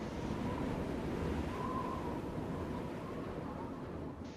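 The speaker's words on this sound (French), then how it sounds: "Moi, le vent est de plus en plus fort." Steady, roaring rush of strong storm wind buffeting the microphone, a continuous broadband noise that holds level throughout with no pauses.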